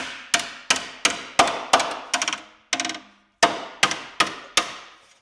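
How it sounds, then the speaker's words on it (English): Repeated hammer blows striking metal and wood on a C5 Corvette being readied for drifting, about a dozen sharp hits in an irregular rhythm, close and loud, with no talking. "Keep hammering."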